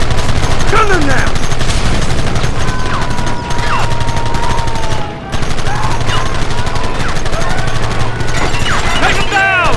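Gunfire rings out in the Western game Red Dead Redemption during a stranger mission, with dense, loud volleys and fusillades of shots that continue steadily across the stretch and briefly dip near the middle.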